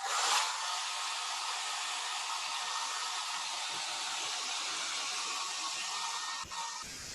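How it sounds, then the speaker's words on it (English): A hair dryer blows hot air over a fresh pen-and-ink drawing, a loud, steady broadband whoosh running for several seconds before cutting off abruptly near the end, with no voices. "just hit this with a bit of hairdryer to dry this off"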